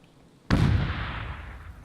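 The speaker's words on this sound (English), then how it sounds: "Oh, Stranger threw a nade." A grenade detonates in the survival video game SCUM: a sudden, loud blast about halfway through, followed by a long rumbling, crackling decay that fades slowly to the end.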